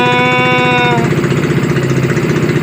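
A small 7hp Loncin boat engine runs close by at sea, a loud, steady chugging drone with a rhythmic pulse and no voices.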